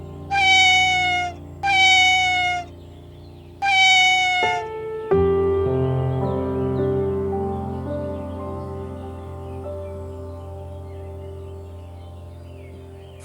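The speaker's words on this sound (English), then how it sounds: "Cat." A domestic cat meows three times in quick succession, clear and close, followed by a sustained musical tone that lingers to the end.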